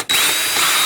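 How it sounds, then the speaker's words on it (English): A power drill whines loudly and steadily as it bores holes through a plastic bucket lid, close by, starting abruptly after a brief pause. "I can concentrate on drilling the holes for my bolts"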